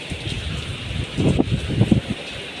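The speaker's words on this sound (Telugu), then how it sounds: "ఇప్పటిదాకా ఇంకా ఘోరంగా ఉండే వర్షం, అయితే చాలా ఘోరంగా ఉండే వర్షం." Rain falling in Hyderabad, a steady wash of noise with denser patter and splashes swelling in the middle, moderately loud and without voices.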